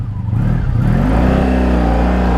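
A 1984 Honda Sabre V65 1100 motorcycle with dirty carburetors runs loud and close, its engine note rising from a rough start into a strong, steady rev.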